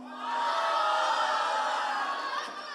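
An Easter Puja music program crowd roars in a sustained cheer and shout that swells quickly, holds loud for about two seconds, then eases off slightly.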